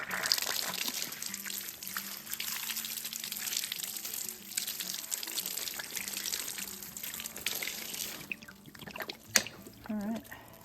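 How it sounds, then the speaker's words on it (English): Tap or hydrant water pours and splashes steadily while damaged sweet potatoes are rinsed outdoors in January, a continuous close trickle with light handling clatter underneath. "Get these a good rinse, and then we'll get them in their buckets."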